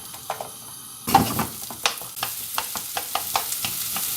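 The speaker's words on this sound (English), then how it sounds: "Now they can go in pan and we're going to caramelise them." Onions hit a hot pan and sizzle as they start to caramelise for slow cooked pork in tikka sauce, a sudden burst of frying followed by brisk, repeated stirring scrapes close by.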